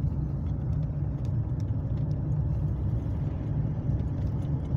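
A Fiat Ducato van drives along a street at night, its engine giving a steady, close, even rumble with a constant road whir throughout and no voices.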